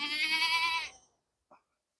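A female goat bleats with her kid on a breeding farm, one loud, close, sustained bleat followed by a very brief faint call after a pause.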